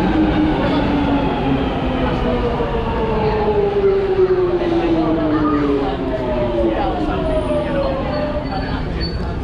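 A London Underground train running through a tunnel, with a loud, steady rumble and rising, falling wheel and motor whine that continues throughout.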